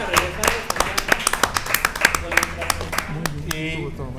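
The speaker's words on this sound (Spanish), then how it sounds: "Un aplauso, por favor." Scattered rhythmic hand claps from a small studio group on a Spanish-language cooking show, with a voice talking over the claps throughout.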